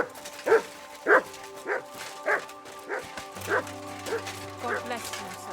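A dog barks in a series of short, evenly spaced yips over a steady synthetic background hum in Kingdom Come: Deliverance II.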